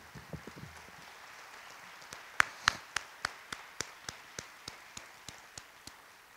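Scattered claps rise into a brief round of applause for elected officials at a city council inauguration. The claps are sparse and fairly distant, giving a thin, uneven patter that tapers off.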